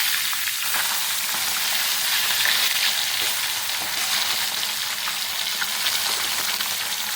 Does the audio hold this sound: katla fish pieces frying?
yes